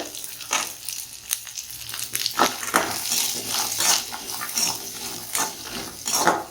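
Onions and cashew nuts sauté in an oil pan for paneer butter masala, giving a faint sizzle under repeated scraping stirs of a spatula. The strokes are close and fairly loud, with no talking.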